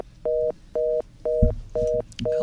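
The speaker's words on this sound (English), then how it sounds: "I hear a little phone." A telephone in a radio studio gives five short, evenly spaced electronic tones, each about a quarter second long, clear and close, with faint room noise between them.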